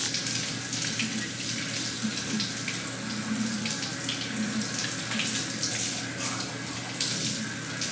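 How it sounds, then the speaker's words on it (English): Tap water runs steadily into a kitchen sink while sweet potatoes are rinsed under it, a continuous close splashing hiss with no voices throughout. "I'm gonna wash sweet potatoes because they're disgusting."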